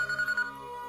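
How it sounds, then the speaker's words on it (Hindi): A telephone ringtone in a Hindi-dubbed South Indian film scene, a steady electronic ring with repeating pulses, loud and alone with no talking over it. "फोन उठाओ बेटी।"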